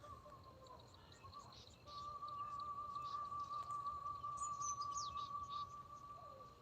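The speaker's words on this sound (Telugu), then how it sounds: "అందమైన గ్రామంలో ఇటువంటి అద్భుతమైన దృశ్యాలు కోకిల కలకిలలు పక్షుల కలయికలు" A koel and other birds call through a chilly, misty village morning, with steady chirps and tweets over a soft insect drone and one long sustained whistle-like tone, all heard at a distance with no voices.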